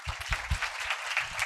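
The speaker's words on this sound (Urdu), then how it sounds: "تالیاں بجائیں زوردار خدا کے جلال کے لیے" Congregation at a Friday healing meeting clapping loudly, a dense wash of many hands with some voices and low thumps underneath, close and full throughout.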